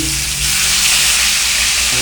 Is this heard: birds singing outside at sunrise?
no